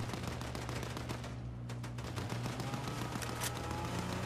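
Gunfire in the video game Fortnite, dense rapid bursts of automatic shots in an unbroken loud barrage with a brief lull midway.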